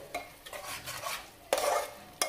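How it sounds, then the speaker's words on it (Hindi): Masala for an Odisha-style mutton curry fries in hot oil, spoon scraping and stirring through it in repeated strokes with a steady close sizzle, a sharper burst of frying near the end, no talk. "ऑलमोस्ट 20 मिनट तक भूनना है, जैसे कि अच्छे से पूरा ऑयल निकला है मसाला से।"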